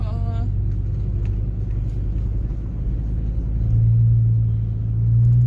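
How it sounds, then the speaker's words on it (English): A truck engine rumbles steadily while driving, a deep continuous drone that swells louder toward the end with no breaks. "It's fun driving this truck."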